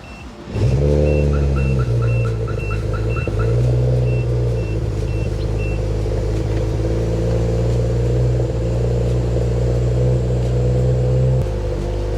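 A newly bought car, a dream-spec model, starts up with a brief whir and then settles into a loud, steady engine note held close by, with a few light rev swells and a short chime of beeps early on.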